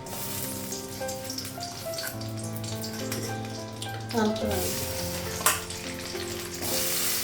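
Panch phoron spices and green chilies frying in hot oil in a Bengali home kitchen, a steady close sizzle with occasional stirring clatter and utensil knocks throughout.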